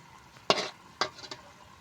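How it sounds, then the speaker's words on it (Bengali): Mashed boiled green banana frying in a pan, with two sharp stirring scrapes and a softer third, each trailing a brief sizzle over a faint background hiss. "আমি কলার ভর্তাটা ভেজে নেব"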